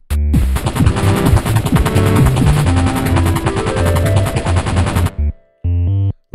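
Rapid, loud gunfire from the gun in the Pixel Pete video game rattles in a dense continuous burst for about five seconds, then breaks into a few short separate bursts with silence between them.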